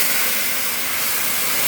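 Onions hitting hot oil for a large batch of katla fish kalia, a loud continuous hissing sizzle close up, with no voices over it.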